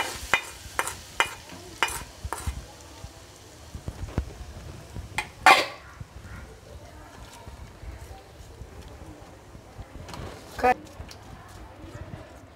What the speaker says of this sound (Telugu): తాలింపు వేసాక చక్కగా ఇలా కలుపుకోవాలి అన్నీ సమానంగా కలిసేటట్టు.